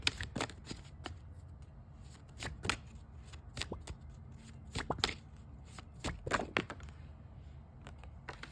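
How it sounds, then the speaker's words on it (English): Tarot cards are shuffled close up in a quiet room, giving a series of crisp riffling slaps and flutters in irregular bursts over several seconds. "Clarify the World card."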